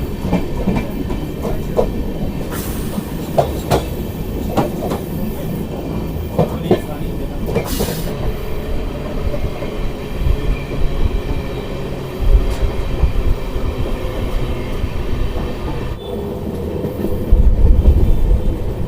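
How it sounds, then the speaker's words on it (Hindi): Dehradun Amritsar Express with new LHB coaches rolling past a MEMU train near Haridwar, a steady loud rumble of wheels and clattering rail joints with brief rushes of passing air, no talk. "और ये क्रॉसिंग हुई हमारी यहाँ पर मेमू से"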